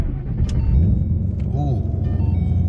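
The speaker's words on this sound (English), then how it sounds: "Start the vehicle up, the new tune on it." A twin-turbo Boss 302 V8 running on E85 starts and settles into a low, steady idle rumble, close by, with a faint whine over it.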